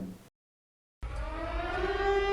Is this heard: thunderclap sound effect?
no